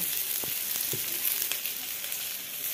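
Onion, chilli and eggplant fry in a wok over a home stove, giving a steady bright sizzle with a few soft clicks of stirring. No one speaks.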